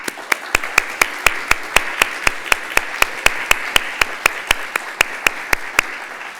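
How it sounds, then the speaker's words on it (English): Audience applause for alumni award winners at a research excellence award keynote: a steady wash of clapping with sharp, evenly spaced claps standing out close by, sustained for several seconds without talk. "we'll give you a round of applause for our alumni Zoetis Researcher of the Award"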